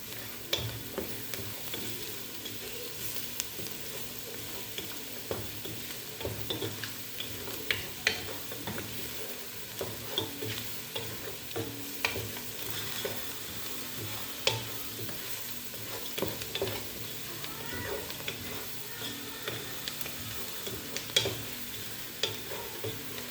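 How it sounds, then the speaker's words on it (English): Pilau rice mixture stirred in a pot, with a steady run of scraping and clicking spoon strokes over a soft, continuous sizzle, close and moderately loud throughout with no talking. "I'm gonna stir it together."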